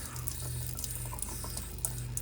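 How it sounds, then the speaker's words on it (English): Leftover water drains out of an opened kitchen faucet after the supply is shut off, a faint, steady trickle and hiss with no talking. "Once the water is shut off, let the remaining water drain out."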